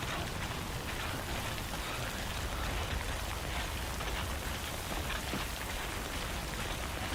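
Steady, dense rainfall in the video game Death Stranding, a loud, even wash of drops hitting surfaces with no breaks.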